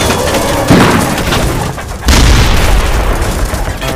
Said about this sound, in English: firing a lot of cannon rounds.